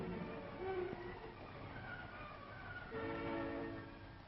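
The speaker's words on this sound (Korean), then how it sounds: "마지막 기차들이 도착합니다." Trains arrive at a wartime railway near a forest, a steady low rumble of rolling stock with tonal horn or whistle-like notes rising partway through, heard at a distance with no voices.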